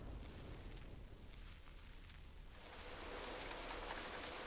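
Storm and rain in the Nancy Drew game Secret of the Old Clock, a steady broadband wash of rain and wind that swells louder in the second half, with no voices.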